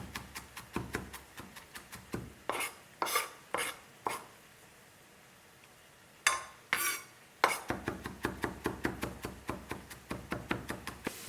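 A metal spoon scraping and knocking against fresh ginger while peeling it in a kitchen, a series of sharp, close clicks and scrapes in uneven bursts with brief pauses, no talking.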